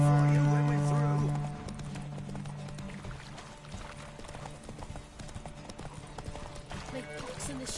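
Roach, Geralt's horse in The Witcher 3: Wild Hunt, gallops in steady, rapid hoofbeats at close range, layered with game music and voices.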